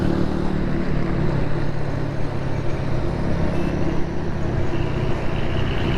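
Motorcycle with a faulty silencer making odd exhaust noise on a morning ride near Sohrab Goth, Karachi, a steady loud rumbling drone with rough low pulsing, no talk.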